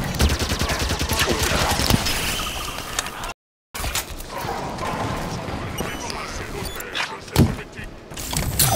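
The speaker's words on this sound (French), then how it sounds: "Un rapace me tire dessus." Enemy aircraft fire at the player in Halo 5: Guardians, a dense, loud stream of rapid gunfire and impacts that runs throughout, with a brief total dropout near the middle and a few sharp louder blasts toward the end.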